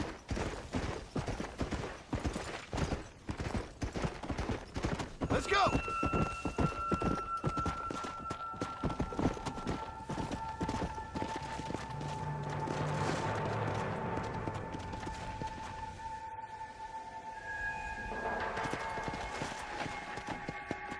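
Galloping hoofbeats of an undead zombie horse in the video game Red Dead Redemption: Undead Nightmare, a steady rapid clip-clop running throughout, mixed with game music tones and occasional gunfire-like bursts.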